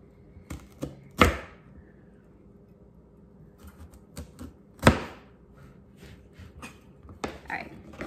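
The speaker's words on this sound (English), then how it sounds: "So I'm done with that half of the pear, and I was able to cut 1, 2, 3, 4, 5, 6 pieces" A knife cuts a pear into pieces on a board. Sharp, separate chops are spaced unevenly, two of them loud and crisp, with softer taps and scrapes in between.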